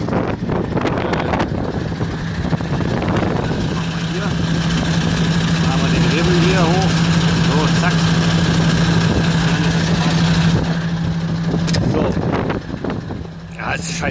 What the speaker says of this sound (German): hier müssen wir erstmal die Karre noch anmachen